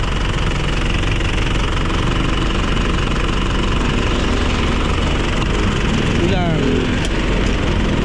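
A 2017 Isuzu Crosswind Sportivo engine running steadily at idle during maintenance, a loud continuous knocking drone with people talking over it throughout.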